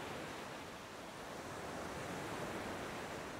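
Rough sea surf breaking on a beach at Almada, Portugal, a steady dense wash of waves with no distinct crashes, faint and continuous throughout.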